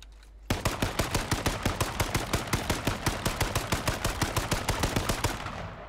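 Rapid automatic gunfire in the video game H1Z1 King of the Kill: a sustained, evenly spaced stream of loud, sharp shots, roughly five per second, runs for about five seconds before cutting off.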